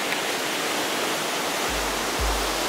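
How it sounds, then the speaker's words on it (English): Ocean waves at a beach in Bali, a constant broadband roar of surf with low rumbling swells building near the end, no voices. "listening to the ocean."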